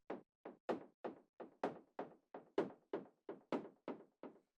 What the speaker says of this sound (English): this little percussion sound I made with operator.